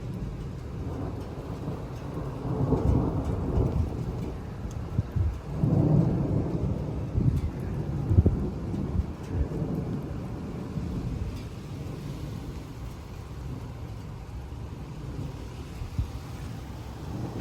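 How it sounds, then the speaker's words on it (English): Heavy rain pours steadily during a severe thunderstorm with gusting winds up to 60 mph, thunder rumbling low in rolling swells before easing into a constant hiss of rain; no talk. "Sorry about the rain"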